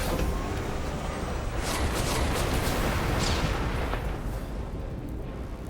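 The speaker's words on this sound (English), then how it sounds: "we are being shot at almost immediately" Blaster fire and explosions batter the player's ship in Star Wars: The Old Republic, a dense, rumbling barrage of booming blasts and bursts that stays loud and continuous throughout.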